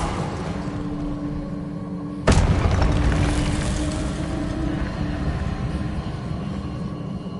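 Incendio fire spell cast in the Hogwarts Legacy video game, a sudden loud burst followed by a sustained roaring rush that slowly fades over a constant background rumble, with no talk.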